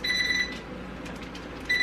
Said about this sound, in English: that's the timer, so that was 10 minutes